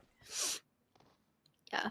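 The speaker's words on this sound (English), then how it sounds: "I'm suddenly having the passing sneezes" Two sharp, breathy sneezes close by, separated by a short pause with faint small sounds in between.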